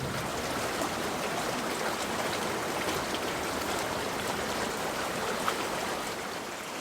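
A creek flows close to a campsite in the Alabama Hills, California, during a heatwave, giving a loud, steady broadband rush of water that holds constant throughout and fades slightly at the very end.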